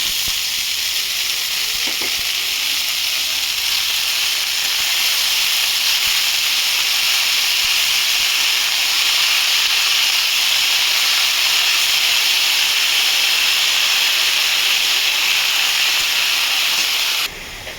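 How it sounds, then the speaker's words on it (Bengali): Methi greens dropped into a hot pan of fried garlic, onion and green chilli, a loud steady hiss of sizzling and steam that holds evenly and cuts off at the end. "ভাজা হয়ে গেছে, শাকটা দিই"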